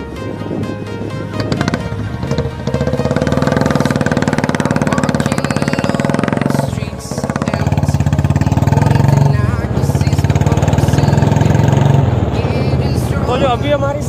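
A Royal Enfield Bullet motorcycle engine thumps steadily at a loud, close idle, revving briefly partway through, with a voice speaking over it.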